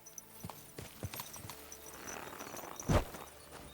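Horse hooves clip-clop at a slow walk in the video game Kingdom Come: Deliverance II, a few soft hollow knocks, with a louder thud near the end against a quiet ambient background.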